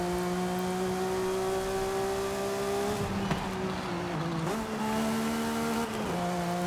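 A Porsche 911 in the racing game Forza Horizon 5 holds a high, steady engine whine, with rev pitch shifts and brief dips between gears as it takes corners, loud and continuous.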